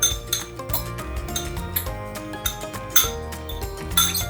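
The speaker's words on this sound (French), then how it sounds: "Et là, je vais mélanger ça." A utensil whisking sweet chili sauce in a bowl for a lobster burger, rapid clinking and tapping against the bowl's sides in a brisk, continuous rhythm, close and fairly loud, without speech.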